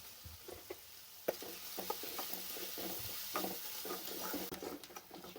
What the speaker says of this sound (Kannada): ಕೆಂಪಗಾಗೋವರೆಗೂ ಚೆನ್ನಾಗಿ ಈರುಳ್ಳಿನ ಆಡಿಸ್ಕೊಳ್ಳಿ